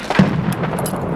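Enemy gunfire in the video game Escape from Tarkov: a sharp, loud shot followed by a few quicker reports in a short burst, close and punchy.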